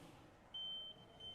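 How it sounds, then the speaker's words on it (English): A small battery-powered buzzer sealed inside a bell jar gives a steady high-pitched electronic beep, one sustained tone that stops and then starts again briefly, faint and thin over quiet room hiss. "we're going to see if we can hear the change in the volume of my little buzzer inside of here"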